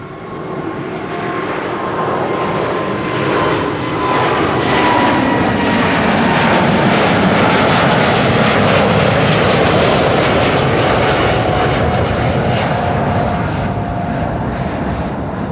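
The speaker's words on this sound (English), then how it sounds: "Delta Airlines to Salt Lake City, Utah. It's an A330 Neo" A Delta Air Lines Airbus A330neo jet departing Amsterdam Schiphol for Salt Lake City, its engine roar swelling to a loud sustained rumble with a high whine as it passes close, then easing slightly toward the end.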